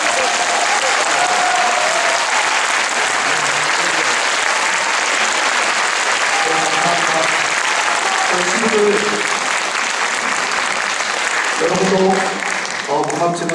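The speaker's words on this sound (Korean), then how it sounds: "너무 지금 박수가 좋은 것 같은데" Sustained concert audience applause at a Gwangju YMCA youth orchestra's annual concert hall performance, steady and full throughout, with someone speaking over it in the later seconds.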